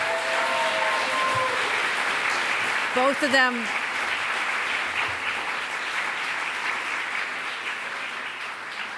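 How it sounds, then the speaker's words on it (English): Audience applause at a New York governor's bill signing for reproductive health legislation: dense, sustained clapping throughout, with a brief voice and a squeaky tonal sound early on, and the crowd noise slowly easing toward the end. "Let's give them another round of applause."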